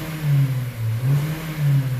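A 2015 Hyundai Elantra 1.8L engine with an exhaust cam phaser fault revs up in three repeated bursts, each rising and falling in a steady rhythm, heard close and loud with no talking.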